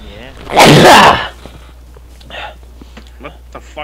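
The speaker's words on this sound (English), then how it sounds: "What was that? A sneeze." A single loud, sharp sneeze bursts out in the Dark Souls 3 game, followed by quieter speech and a few small clicks and noises.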